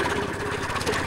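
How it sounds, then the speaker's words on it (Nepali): A nearby motorcycle engine keeps up a rapid, steady putter of popping pulses under road ambience, with no voices. "यो बाइकै यो बाइक मेरो भन्दा बढी पड्किरहेको छ क्या"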